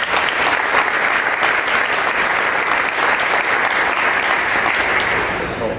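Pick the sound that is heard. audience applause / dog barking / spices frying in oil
audience applause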